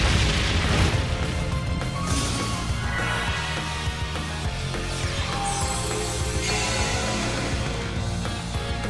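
The Brionac weapon fires in Trails of Cold Steel III, a loud, sustained roar of booming explosions and crashing bursts that fills several seconds with layered blasts.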